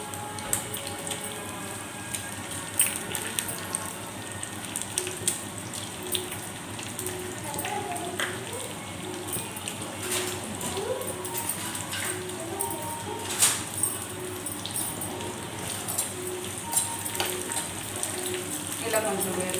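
Chana dal, dried red chillies and tempering spices sizzling in hot oil in a home kitchen, a steady crackling fry with scattered sharp pops and spatters, held at close range throughout.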